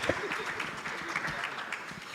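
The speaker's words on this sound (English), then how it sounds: "Let's give the panelists a round of applause." Audience applause for the panelists at the close of a UKGCC and Ghana International Bank trade meeting; modest, fairly faint clapping from a small room, steady and continuous across the short stretch.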